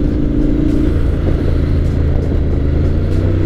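Steady droning engine of a Honda X-ADV 750 motorcycle on a DCT test ride, a constant loud rumble with wind noise and no clear rise or fall throughout.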